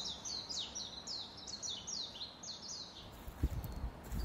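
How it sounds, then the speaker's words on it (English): Songbirds chirp in Bowie Nature Park in Fairview, Tennessee: a run of quick, bright, repeated chirps from a fairly close bird, followed by a few soft handling thumps at the end. "Pretty birdie birds."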